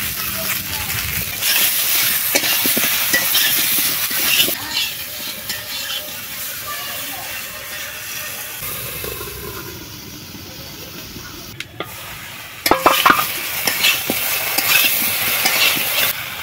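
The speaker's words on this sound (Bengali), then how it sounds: "মাছ ভাজার তেল দেখুন কড়াইতে অল্প রয়ে গেছে, ওই তেলের মধ্যে দিয়ে দেব কাঁচকলা আলু" Steady frying sizzle and hiss as green plantain and potato fry in leftover fish-frying oil in a wok, loud and close, with occasional stirring scrapes and clatter toward the end.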